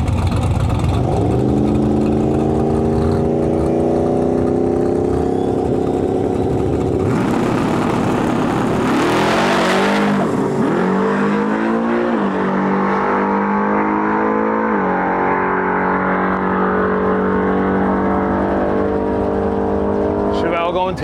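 Drag racing cars, among them a Chevelle, roar down the strip in a long, loud engine run that rises and sweeps past, then fades to a lower rumble, with a voice speaking over it.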